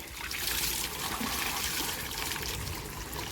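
Hose pipe water pouring into plants during a morning garden routine, a steady close trickle and splash running unbroken throughout.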